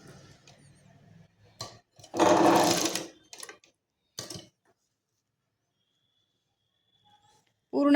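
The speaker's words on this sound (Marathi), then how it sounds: "इथे कॉलरच्या अगदी इथूनच पूर्ण कडेकडेने टीप देऊन घ्यायची आहे" Sewing machine stitching along the collar edge of a kurti, a short close whirring burst of about a second, with a few faint clicks and quiet pauses around it.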